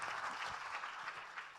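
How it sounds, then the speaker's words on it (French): An audience at a plenary dialogue session applauds a minister, a dense, even wash of many hands clapping at moderate distance for the whole stretch, with no talking over it. "On applaudit Monsieur le Ministre."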